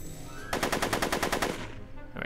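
Rapid burst of automatic gunfire in the Back to the Future video game, about a dozen evenly spaced loud shots over roughly a second, then fading, with no talk over it.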